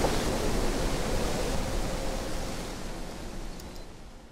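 Steady broadband wind rushing through bushy plants, a dense, even hiss that eases slightly toward the end, close and continuous with no voices.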